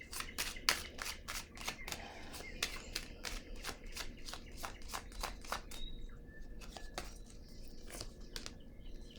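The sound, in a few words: tarot cards being handled and laid down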